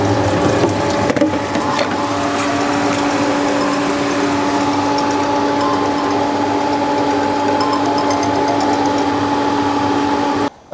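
A power flushing machine pumps water around an office's heating system, giving a steady mechanical hum with constant tonal whine and a faint rattle, running unchanged for about ten seconds.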